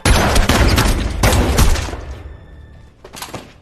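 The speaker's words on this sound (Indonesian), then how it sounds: "Hingga terjadilah saling tembak" Rapid gunfire erupts in a film shootout, a loud dense barrage of overlapping shots and impacts for about two seconds, then a quieter pause and a final short burst near the end.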